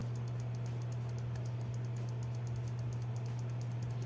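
GameSir G7 Pro controller trigger set to its lock mode, giving a rapid series of light mechanical mouse-like clicks in a steady rhythm over a constant low hum, close and fairly quiet.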